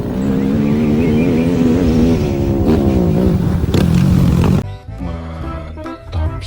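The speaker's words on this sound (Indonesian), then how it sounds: "yang ini ada motor roda 4 rupanya" A four-wheeled quad bike engine revs loudly, its pitch rising and wavering, then it cuts off abruptly into quieter, choppier sounds.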